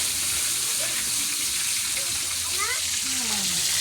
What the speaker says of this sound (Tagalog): Ginisa ko na guys yung bawang sa kaluya at sibuyas. Konting mantika lang nilagay ko.